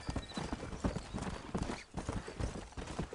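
Horse hooves clip-clopping in Red Dead Redemption, a steady, close rhythmic trot of repeated hoofbeats that carries on alone throughout.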